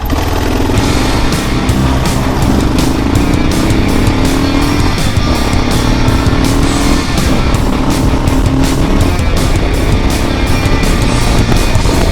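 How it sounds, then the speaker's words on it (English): Motorcycle engine under heavy throttle climbing a hill on back roads, a loud, steady, rising drone close to the rider with constant wind rush and no talking. "lots of throttle just cranking up the hill"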